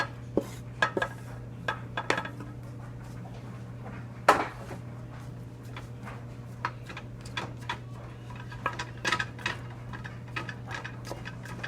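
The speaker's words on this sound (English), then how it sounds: "I'm taking half of the cornbread mixture and putting it at the bottom" A wooden spatula scrapes and taps while layering a hot cornbread mixture into a casserole dish for a Mexican cornbread casserole, making a string of irregular close clinks and knocks, one sharper clack among them, over a steady low hum.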